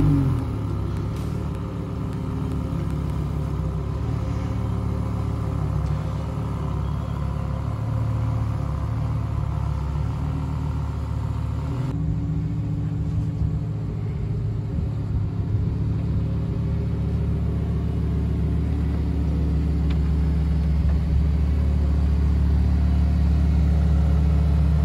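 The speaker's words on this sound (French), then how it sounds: "La voiture va sortir par là" Lamborghini Huracan Evo leaving a dealership, a steady low engine rumble that shifts partway through, sitting close and continuous with no talk.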